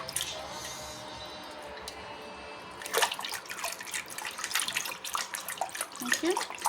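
Tap water runs steadily and splashes while a mixer jar is rinsed out after making mint and coriander chutney, with sloshing and clattering bursts.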